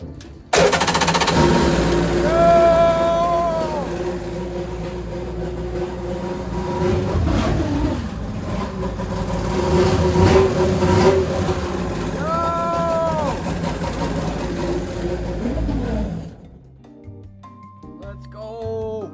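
A mini racing jetboat engine fitted with motorcycle carburetors sputters to life and revs in rising and falling bursts for about sixteen seconds, loud and close, then cuts off abruptly.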